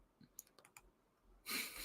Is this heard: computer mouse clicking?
yes